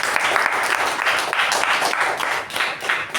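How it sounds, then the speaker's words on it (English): Close, brisk applause from a small Toastmasters meeting group, dense hand clapping with a slightly pulsing rhythm, steady and fairly loud across the few seconds. "please give a big round of applause for Toastmasters"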